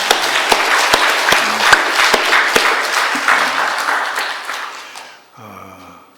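A church congregation applauds warmly after giving thanks for a safe return from a mission trip to Russia, a dense, steady round of clapping that fades out before a voice speaks briefly at the end.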